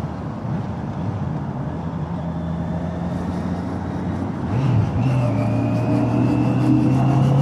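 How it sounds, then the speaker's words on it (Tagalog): Road traffic in Santo Tomas heard from inside a vehicle heading toward Lipa City: a steady engine rumble and tire drone with a louder passing vehicle or revving surge midway, close and continuous. "Traffic Santo Tomas, oh."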